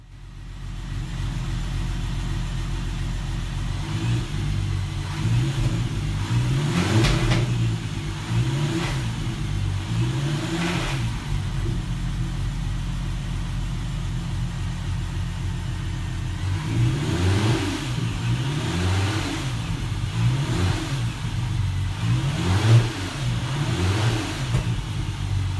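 An Audi TT Mk2 with a swapped-in 3.6L R36 VR6 engine revs repeatedly from idle, loud and close, with several rising and falling throttle blips over a steady engine drone and no talking.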